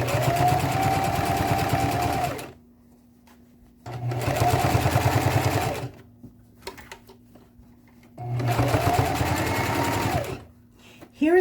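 A sewing machine stitching a handbag, the bag turned by hand as the seam goes around; three sustained loud runs of motor whir, each about two seconds, separated by quiet pauses with a faint hum and small handling clicks.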